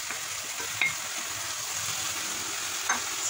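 Chopped onion with grated garlic fries in a pan, a continuous moderate sizzle up close, broken by a couple of brief spoon clicks against the pan, with no voices.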